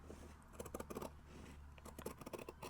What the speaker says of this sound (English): I'm just going to cut along the top line of markings.